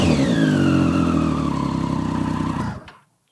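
A Triumph motorcycle engine fitted with an aftermarket exhaust, close and loud, holds a high steady rev that slowly sags in pitch before cutting off abruptly into silence near the end.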